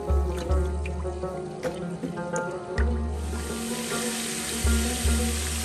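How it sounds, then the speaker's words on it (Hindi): Garlic ginger paste sautéing in a hot pan, a continuous close sizzle with soft wet squishing and occasional clicks, over a low steady hum. "अभी मैंने इसको सिर्फ 1 मिनट के लिए सौते करना है।"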